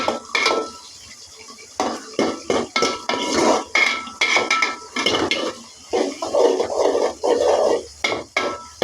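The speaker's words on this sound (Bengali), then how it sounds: "ভালো করে একটু নেড়ে দিচ্ছি" A spoon knocks and scrapes repeatedly against a pot of boiled vegetables, giving loud, close, rhythmic clatters with brief gaps between strokes and no voices.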